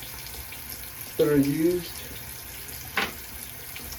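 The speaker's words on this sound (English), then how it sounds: "sorry about this water, forgot it was on" A bathroom tap left running, a steady broadband wash of water under the whole stretch, with a short burst of speech and a brief clatter partway through.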